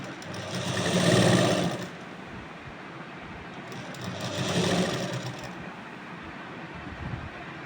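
A sewing machine stitching a Rajasthani suit blouse runs in two steady whirring bursts of about two seconds each, close and moderately loud, with quiet pauses between them.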